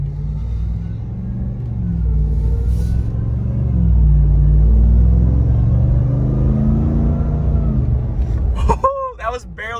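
A 2021 RAM TRX pickup with a boosted engine accelerates gently on light throttle, giving a steady low rumble that swells in the middle and then fades. Someone talks over it near the end.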